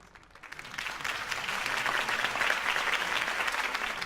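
Crowd applause from Batman: The Telltale Series fills the scene, a dense steady clatter of many hands that swells after a quiet start and holds at moderate loudness.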